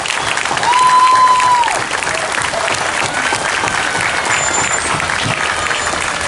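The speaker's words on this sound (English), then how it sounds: "Let's give Karen and her family a big round of applause." A large audience at a Prairie Days show breaks into loud, sustained applause and crowd noise, swelling early and then holding steady, with a few whistles rising above the clapping.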